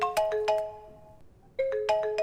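A phone ringtone for an incoming call chimes in short bright melodic notes, a quick rising phrase, a gap of near silence, then the phrase repeating, loud and close with no talk.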